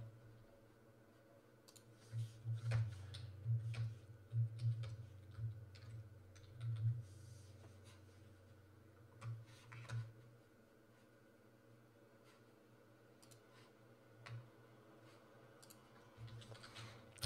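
Soft, close keyboard clicks come in short irregular bursts during a coding session, faint over a steady low hum with long quiet gaps.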